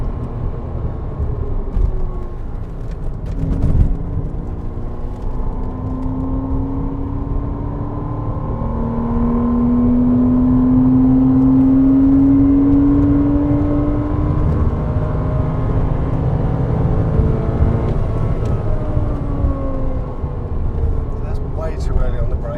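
A Porsche Cayman 987 and a BMW M5 F10 lap the Bedford Autodrome, one engine droning and whirring as its pitch climbs through a long rise and settles, under an almost unbroken stream of talk.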